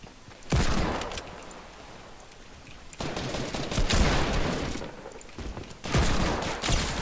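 Video game gunfire rattles in several rapid automatic bursts separated by short pauses, loud and close.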